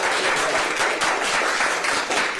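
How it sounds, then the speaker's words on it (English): A courtroom crowd at a double murder sentencing cheers and applauds, a dense, loud, steady wash of clapping with no break. "The entire courtroom erupted in cheers."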